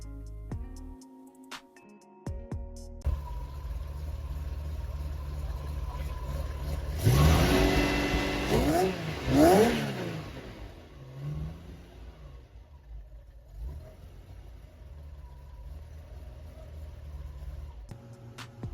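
An old-school Ferrari V12, kept in rare condition, revs up in a few sharp rising bursts over a steady running engine, loud and close, then settles back to a smooth idle.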